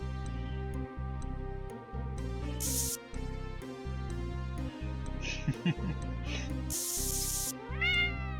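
In the Space Quest video game, a cat meows and hisses in short bursts over looping electronic game music, with people talking alongside.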